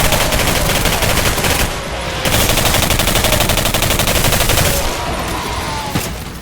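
Sustained automatic gunfire from the video game Singularity rattles loudly and continuously, with brief pauses between bursts.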